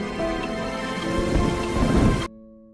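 Heavy rain pours in a film scene in a dense, steady roar that builds with rumbling low swells, then cuts off abruptly to a quiet tonal hum near the end.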